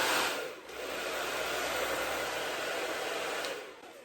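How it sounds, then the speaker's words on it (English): A handheld hair blow dryer running on its low speed, low heat setting gives off a steady, close whooshing hiss that dips briefly near the start, then holds even before easing off. "I have my blow dryer on low speed, low heat."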